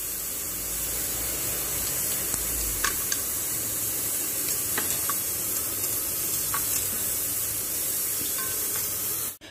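Onions and whole spices fry in hot oil with a steady, close hiss and sizzle throughout, with a few light clicks of a utensil against the pan.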